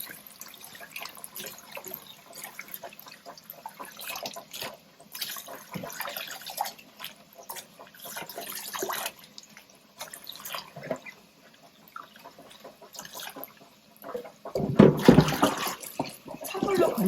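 Shrimp shaken and rinsed in cold water in a kitchen, with running and splashing water and scattered drips, growing louder and busier near the end.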